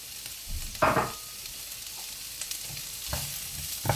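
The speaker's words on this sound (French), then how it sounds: "une fois que la poêle est chaude, on va y rajouter le poivron, l'oignon rouge, l'ail" Bell pepper, red onion and garlic hit a hot pan of olive oil for a Provençal squid stew, giving a soft continuous sizzle with a few close scrapes and clinks of stirring, and no speech.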